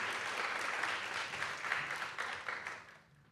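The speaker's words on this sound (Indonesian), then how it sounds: "Teman-teman boleh dong kasih aplaus buat teman-teman yang sudah melayani." A church congregation applauding after thanks to those who served, a dense, steady wash of clapping from many hands filling the room before tapering off quickly at the end.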